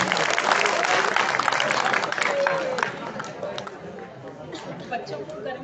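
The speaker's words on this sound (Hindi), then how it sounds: "मुझे बच्चों के ताली बजाने से पता चल गया।" A crowd of schoolchildren claps at a school event, a dense, fairly loud burst of applause mixed with chatter that thins and softens after about three seconds.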